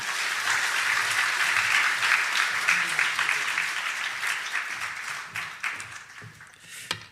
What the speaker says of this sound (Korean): 정말 수고하셨고 더 은혜 끼쳐달라고 박수로 모시겠습니다